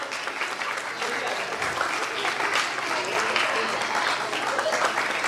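A hall audience at a children's prize distribution on Resurrection Day breaks into sustained, even applause, steady and full throughout with some talk mixed in.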